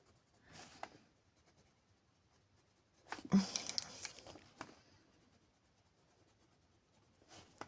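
Arteza markers glide across smooth paper while someone colors, leaving soft intermittent scratching strokes that are quiet and close, with a denser burst of strokes in the middle.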